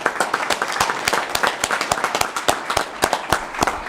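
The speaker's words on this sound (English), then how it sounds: "Can we get a round of applause for the candidates" Applause for council candidates at a city council meeting, a modest group clapping with distinct sharp individual claps in an uneven rhythm, fairly close and steady for a few seconds.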